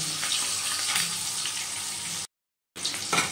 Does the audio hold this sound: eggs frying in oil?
yes